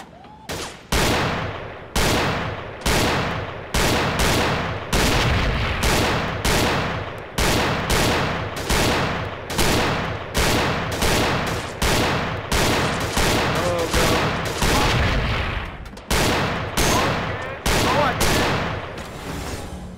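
Loud, close gunshots from the VR shooting game Gun Club VR fire in a steady, rapid sequence of single cracks, roughly one or two per second, continuing throughout with brief gaps.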